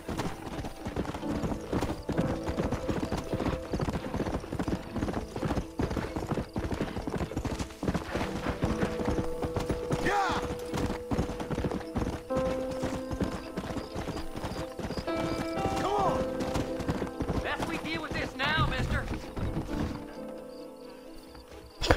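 Horse hooves clip-clopping at a fast gallop in the Western video game Red Dead Redemption, a continuous loud drumming rhythm with an occasional whinny, fading near the end.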